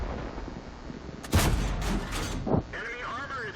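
In the World of Tanks game, a T28 HTC tank destroyer's gun fires a heavy booming shot, followed by a second impact thud about a second later and mechanical rattling, with a voice talking over it.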